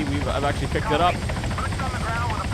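A helicopter lifting a sling load on cables in Arma 3, its rotor thumping steadily and loud throughout while someone talks over it.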